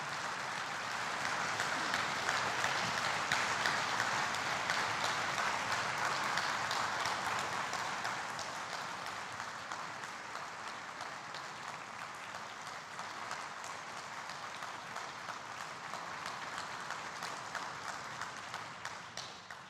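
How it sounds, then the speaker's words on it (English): A church congregation applauding police officers during a service, sustained dense clapping from a large crowd in a hall, loud at first and easing slightly but continuing throughout, with no talk. "would you give them another round of applause before I pray over them?"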